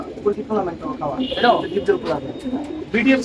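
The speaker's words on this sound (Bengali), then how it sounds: "কবুতর গুলো কেমন লাগছে অবশ্যই জানাবেন" Racing pigeons coo in soft, rolling bursts close by, mixed with people talking nearby.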